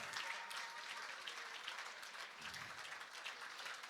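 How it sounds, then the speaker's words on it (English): An audience at a charity gala claps in a steady, diffuse round of applause, heard faintly and at a distance. "Let's give all 17 people a big round of applause."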